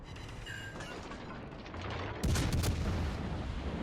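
Warship main battery guns firing in the naval combat game World of Warships Legends, a dense rumble of game audio swelling into a loud, sustained burst of booming salvos near the end.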